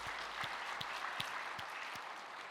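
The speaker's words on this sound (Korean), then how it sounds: "하나님께 영광의 박수 올려드립니다" A church congregation at Ilsan Full Gospel Youngsan Church claps together in a rhythmic, unified beat, regular claps roughly every 0.4 seconds over a wash of scattered applause, moderately distant.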